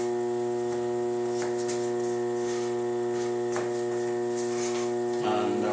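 An electric pottery wheel motor hums steadily while a large porcelain plum bottle is thrown, a smooth tonal drone that shifts pitch briefly near the end as the speed changes.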